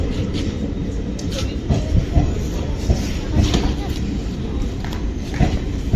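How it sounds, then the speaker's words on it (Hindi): A Vande Bharat train running on the rails between Delhi and Amritsar, heard as a continuous low rumble with faint rhythmic knocks, fairly loud and steady throughout. "ये देखिए शानदार भारतीय रेल।"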